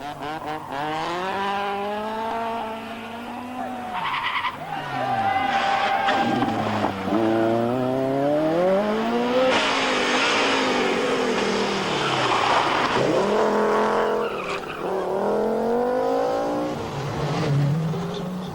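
Rally cars racing at the 1986 24 Hours of Ypres, engines revving hard and swelling as they pass close by, with gear changes and a burst of tire noise, loud and continuous with no talking.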